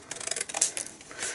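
Scissors cut card for a fold-flat Christmas box along pencil lines, making quiet, rapid snipping and crisp papery crunches close by, without talk.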